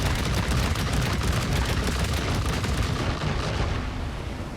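Cannons on a Trailmakers craft fire continuously, a dense, loud barrage of overlapping blasts and rumble that fades slightly at the end.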